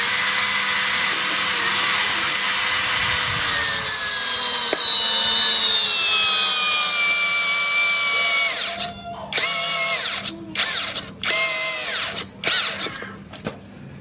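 A Kyoal 16V brushless drill with a 24 mm spade bit boring into wood runs in a long whine that slowly drops in pitch under load, then cuts into several short stop-start bursts near the end.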